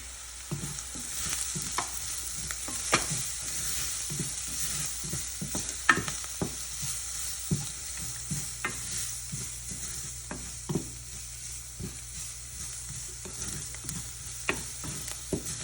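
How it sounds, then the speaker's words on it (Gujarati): Onion sautés on a low flame with turmeric, garam masala and coriander-cumin powder, a soft steady sizzle broken by frequent clicks and scrapes of a spoon stirring in the pan, close and quiet with no talking. "ધીમા તાપે સાંતળીશું ડુંગળીને"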